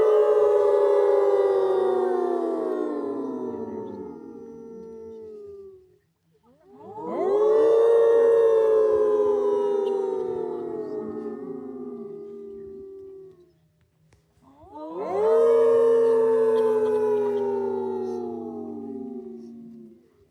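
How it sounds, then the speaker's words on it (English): Wolves at a sanctuary give three long rising-and-falling howls, several voices layered together, loud and near with short pauses between. "Let's try 3 howls."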